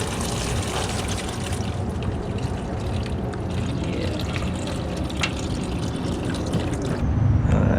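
Coolant gushes out of a Honda Civic radiator during a flush, a steady rushing pour into a drain pan that holds for several seconds before a louder, fuller splash near the end.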